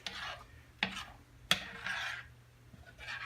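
A metal egg pan set onto a stovetop, with two sharp clanks of metal on the burner followed by soft scraping and shuffling, close and fairly quiet with no talking.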